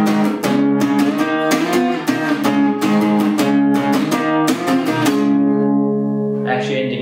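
An electric guitar plays a riff reworked in another band's style, with loud, punchy strummed chord hits in a quick, steady rhythm that ring out at the end, alone without talk.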